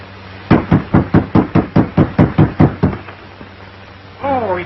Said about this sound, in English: Knock again, louder.